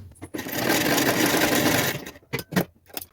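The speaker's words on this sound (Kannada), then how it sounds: "1/4 ಇಂಚ್ ಬಿಟ್ಟು ಸ್ಟಿಚ್ ಹಾಕ್ತೀನಿ." Sewing machine stitches the patti strip onto a blouse with a steady, loud motor whir for about one and a half seconds, then stops, followed by a few short bursts of clicking and handling.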